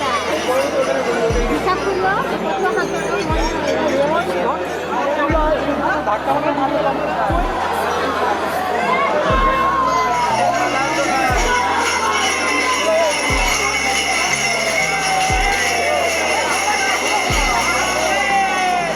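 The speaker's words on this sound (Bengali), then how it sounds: "দেখো ভিড়টা দেখো একবার নিমাইতীর্থ ঘাটে শ্রাবণ মাসের প্রথম সোমবার জল ঢালবে বলে" Dense crowd of devotees at Nimaitirtha ghat during the Shravan month fair at Tarakeswar, a steady loud babble of many voices with scattered calls and jingles, plus low periodic thumps throughout.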